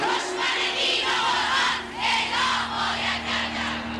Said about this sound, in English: The streets of Tehran this morning were filled with crowds taking up the cry for Salman Rushdie's life